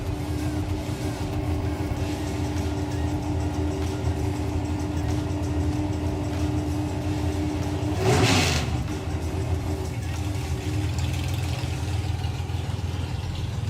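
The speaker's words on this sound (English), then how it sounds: "So Paul Brown at the controls of our two-seater dragster." Two-seater dragster at a drag racing event, its engine droning steadily with a sharp surge and burst of revving about two thirds through, heard from a distance amid constant mechanical background noise.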